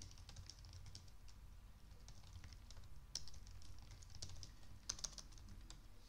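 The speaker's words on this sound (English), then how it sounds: "Then you just keep on typing whatever you want." Typing on a computer keyboard while writing Python code: a faint, steady run of soft key clicks with a few sharper, louder taps, set against a low background hum.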